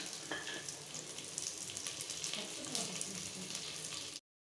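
Chopped onions fry in hot ghee with bay leaf, star anise, cinnamon, cloves and cardamom for mutton pulao, giving a steady, close, dense sizzle with crackling that runs without pause and then cuts off sharply near the end.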